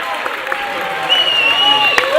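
Home crowd at a Ringwood Hawks basketball semi-final cheering and applauding, a steady roar that lifts midway and runs beneath a commentator's talk.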